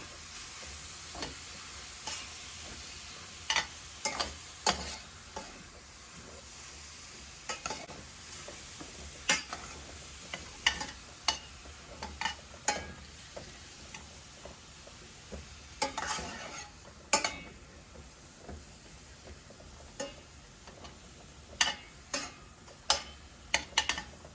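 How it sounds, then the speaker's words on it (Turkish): Rapid clinks and scrapes of a utensil stirring meat searing in a pot over a steady sizzling hiss, the knocks irregular and close. "Her tarafı böyle e, ateşe tencereye değene kadar güzelce karıştırıyorum."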